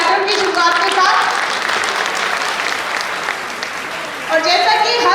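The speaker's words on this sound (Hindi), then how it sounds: "एक बार जोरदार तालियां हो जाए कार्यक्रम की शुरुआत के साथ।" An audience at a farmers' gathering on sugarcane crop management applauds loudly as the program begins, a dense burst of clapping that holds steady and slightly fades, with a voice speaking over it at the start and end.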